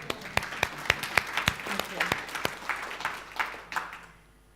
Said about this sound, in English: And a round of applause for that group.